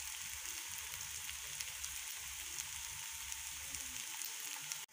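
Sliced potatoes for a potato omelette frying in a pan, a steady bright sizzle with fine crackling pops that holds evenly throughout, close up and alone.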